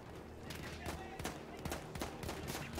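Rapid bursts of gunfire from the World War I shooter game Battlefield 1, with repeated sharp shots and rattling volleys packed close together over a steady background din.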